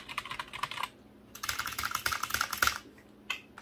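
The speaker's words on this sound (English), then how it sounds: "is this keyboard as loud as some of its mechanical siblings that are out there in the world?" Keys typed on a Gamestop RGB wired keyboard, a brisk run of close, crisp clicks, a brief pause, then a second denser burst and a final few taps, with no talking.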